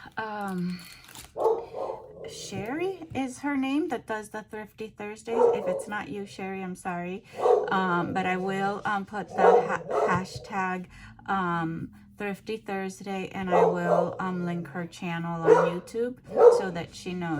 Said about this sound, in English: And I'm sorry, that is my dog.